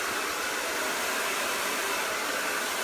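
A hair dryer blows steadily at close range while hair is being blow-dried, a continuous loud broadband rush that holds without a break.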